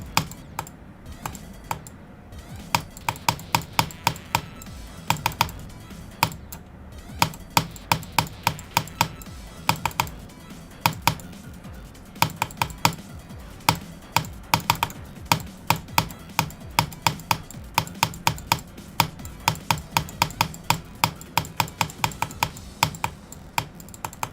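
Rapid, close clacking on a computer keyboard during a game stream, with fast irregular bursts of keystrokes and short pauses running almost nonstop throughout.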